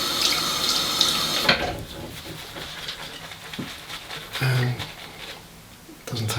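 Water gushes steadily from a tap into a sink, loud and close, then slows to a softer trickle with a few splashes before surging again near the end.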